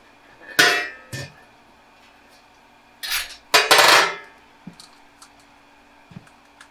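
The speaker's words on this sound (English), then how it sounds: "All right, let's add these salts." Brewing salts going into 165-degree water for an imperial stout, heard as a few sharp clinks and clanks of utensils against a pot, in two clusters with quieter taps between.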